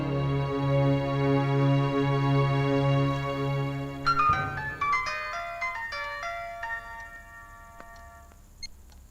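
A phone ringtone plays loudly and alone, a looping electronic tune that repeats steadily for about four seconds, then shifts into a brighter chiming melody that fades out.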